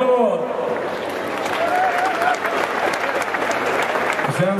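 Steady crowd applause at a small DJ performance, loud and continuous throughout, with a few voices and whoops rising over the clapping.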